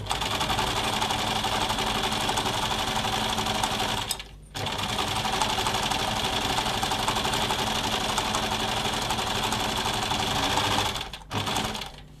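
Sewing machine running steadily and loud while top stitching an apron dress half a centimetre from the edge, with two brief pauses around four and eleven seconds before the whirring resumes.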